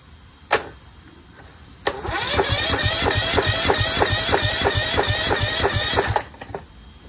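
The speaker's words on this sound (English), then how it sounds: "Let's see if it cranks fully and makes revolutions past the compression stroke." An engine with a repaired starter motor cranks for about four seconds in a steady, rapid chugging rhythm, loud and close, without catching, framed by a sharp click before and after.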